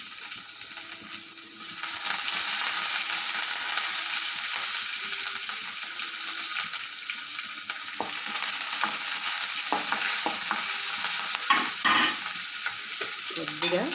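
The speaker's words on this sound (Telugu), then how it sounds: "పచ్చిమిరపకాయ కరివేపాకు కొంచెం వేద్దాం" Green chillies and curry leaves fry loudly in hot oil for a radish curry, a bright crackling sizzle that jumps up after a quieter start, with stirring scrapes and a few clinks against the pan.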